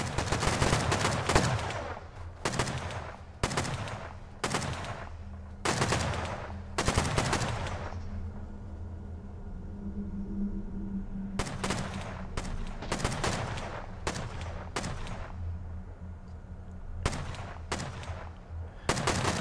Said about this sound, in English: the amount of gunfire being exchanged between Papa Girth's clan and Dirt's army